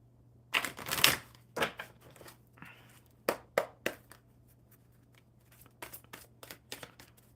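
Tarot cards shuffled by hand, riffling and tapping in irregular bursts of sharp, close rustles and snaps with short pauses between them, over a faint steady hum.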